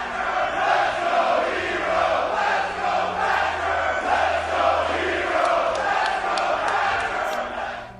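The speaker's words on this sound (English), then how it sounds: "the San Jose fans are roaring with anticipation for this dream matchup" A red-hot wrestling crowd at an Evolve show in San Jose roars steadily and keeps up chants before a Chris Hero vs Timothy Thatcher match, a dense, loud wall of cheering voices filling the whole stretch.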